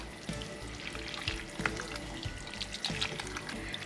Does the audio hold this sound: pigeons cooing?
no